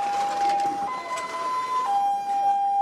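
An ambulance siren during street protests in Myanmar, a loud sustained electronic tone that steps up in pitch briefly before returning, heard nearby with light traffic noise.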